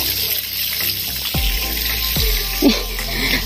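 Spring-fed water flows at a resort in Tabuk City as a steady, close rushing stream. A couple of brief low thumps sound over it.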